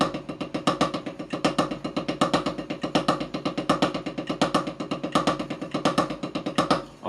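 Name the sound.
drum double paradiddle with accents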